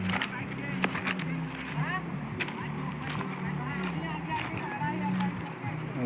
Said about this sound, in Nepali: उयो नौका आउँदैछ त्यसमा चढेर जाने हामी